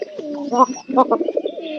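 A pigeon coos close by, a soft throaty burble rising and falling in a few quick phrases.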